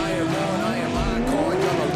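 Toyota GT86 drift cars running Carter's Tyres livery at a drift series round, engines droning and revving with tyres squealing continuously, a commentator talking over the top throughout.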